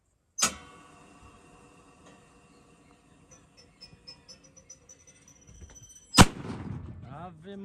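A bird-scaring gas cannon in a passion fruit plantation fires one sharp, loud boom that rings out across the open field. A quieter earlier blast and some faint knocking come before it.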